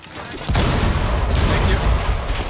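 A wall blown open by a shotgun or impact grenade in Rainbow Six Siege, a sudden loud burst of blasting and crumbling rubble that roars on continuously, close and heavy.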